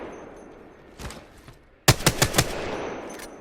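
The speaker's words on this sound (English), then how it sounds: "So I'm gonna jump and shoot at the middle target." Gunfire in the video game Apex Legends during a jump: a short, faint burst comes first, then a loud, close string of about five sharp shots in quick rhythm.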